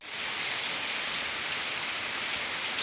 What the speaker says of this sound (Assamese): বৰষুণ দিছে দেই।